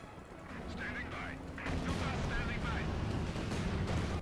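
Machine guns rattle in the wartime strategy game Company of Heroes 2, a fairly quiet, continuous stream of gunfire with a narrator talking over it.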